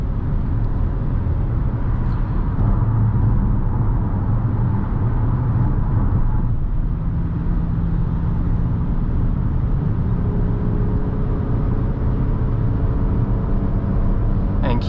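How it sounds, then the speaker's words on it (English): Engine of a 2024 Acura MDX SH-AWD accelerating on the road, heard from inside the cabin as a steady low drone with road and wind noise that shifts in pitch as the SUV gains speed. "That engine sounds so good too. Sounds really sporty, really lively."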